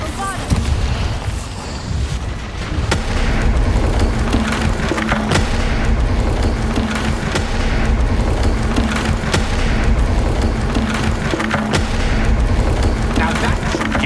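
Bombarda blasting spell explosions in the Hogwarts Legacy video game, heavy booming blasts with splintering debris over a loud, continuous game soundscape, with repeated sharp impacts throughout.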